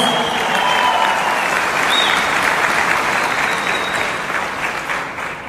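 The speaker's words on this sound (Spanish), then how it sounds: "Se merece ese aplauso." Steady, loud applause from a conference audience at a OneCoin event in Bogotá, Colombia, a continuous crowd of clapping hands that holds for several seconds and slowly fades.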